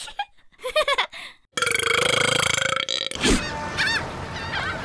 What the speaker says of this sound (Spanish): Debo reconocer que para ser niña lanzas eructos muy decentes.